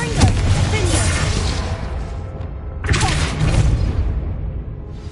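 Two booming Confringo spell blasts in Hogwarts Legacy, each a loud, sudden burst of fiery explosion that rumbles and fades, the second arriving a few seconds after the first.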